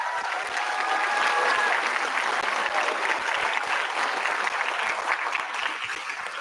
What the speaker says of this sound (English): All right, round of applause for our 8th grade band students